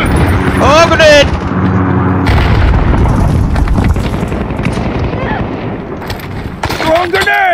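A loud, booming grenade blast from the video game Call of Duty rolls out over dense combat noise, with a voice talking over the chaotic clamor.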